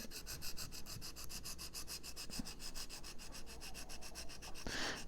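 Knife blade drawn over the hone of a Smith's Precision Sharpening System, a quiet rhythmic series of rapid rasping strokes repeating steadily and close by, with a slightly louder scrape near the end and no talking.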